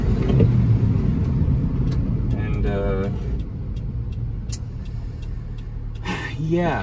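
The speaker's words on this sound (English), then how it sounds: "Just thought I'd take you for a spin in the K truck" A warmed-up kei truck drives along on a sunny day, its small engine giving a steady low rumble throughout with a slight rise near the end, while someone talks over it.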